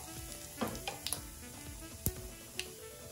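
Cumin seeds and asafoetida sizzle in hot oil with a soft steady crackle, broken by a few sharp pops and clicks from the pan.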